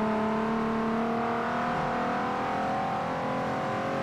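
A Ford Mustang engine in the racing game Forza Horizon drones steadily at high revs, loud and close, its pitch shifting slightly as it gears up, with no voices.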